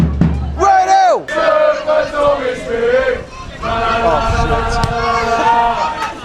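A non-league football derby crowd between Redhill and Horley Town roars and chants loudly and continuously, with voices shouting over the sustained cheering.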